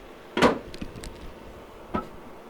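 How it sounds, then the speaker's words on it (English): The bonnet of a 2007 Toyota Blade Master is shut, giving one loud, sharp thud, then quieter rattles and a smaller knock about a second and a half later. "Okay, so I'm gonna close the engine bay here."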